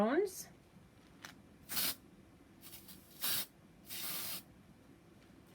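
Food colour is sprayed in short hissing bursts onto isomalt cake topper pieces, four or five separate puffs at an uneven pace, close and clear against a quiet room.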